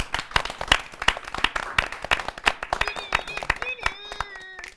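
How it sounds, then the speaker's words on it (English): An audience greets a young singer named Denise with a warm round of applause, crisp claps filling the space. Toward the end a whistle or cheer rises above it, and voices carry faintly underneath. "let's give a big warm applause for Denise"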